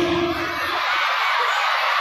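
A crowd of children shouts together loudly on a count of three at a lantern procession in Konya. The roar is sustained and fills the clip with no break.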